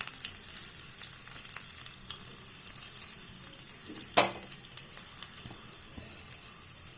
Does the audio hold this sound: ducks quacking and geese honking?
no